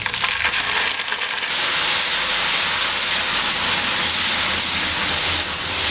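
Ginger garlic paste hitting hot oil with sautéed onions in a pan for a dhaba-style baby corn veg biryani, giving a loud, steady, broadband sizzle that runs unbroken throughout with no talk.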